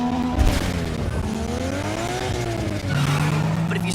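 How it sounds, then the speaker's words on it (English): A race car launching off the line in Need for Speed Underground 2, engine revving and rising in pitch with a faint tire squeal, steady and close throughout. "Launch at the right time and rocket into the lead with speed"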